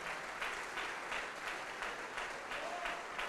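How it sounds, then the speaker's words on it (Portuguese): A church congregation applauds during a service, a full roomy wash of clapping with rhythmic swells in unison, fairly distant, with a voice speaking faintly beneath it. "Vamos aplaudir ao Senhor Jesus pela vida do Esdras."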